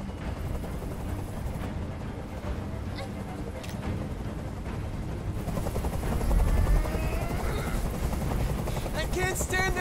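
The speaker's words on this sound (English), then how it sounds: "I can't stand that noise anymore. Tell that helicopter to get out of here" A helicopter hovers over a rooftop hostage standoff in the game Detroit: Become Human, giving a loud, steady rotor rumble that swells in the latter half while voices speak over it.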